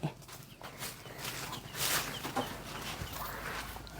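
Chickens cluck intermittently at a distance amid faint outdoor background noise, with a few sharper calls scattered throughout.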